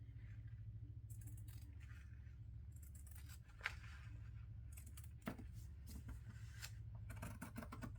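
Scissors cut strips of fabric for a paper-bag junk journal, soft intermittent snips and rustles heard close over a steady low hum, quiet and without speech.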